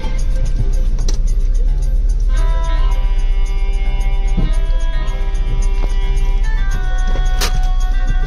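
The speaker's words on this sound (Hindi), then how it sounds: "तो गाइस हम लोग सेंट्रल मार्केट पहुंच चुके हैं और ये गाड़ी पार्क हो रही है।" A car parks in the parking lot of Central Market in Lajpat Nagar, its engine a loud, steady close-up drone with a few faint ticks and clunks over the constant hum.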